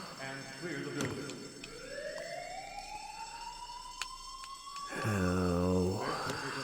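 A fire alarm blares in the Who is Abby? video game, its siren tone sweeping upward steadily for several seconds, then a loud pulsing horn kicks in, with faint speech-like murmur in the background.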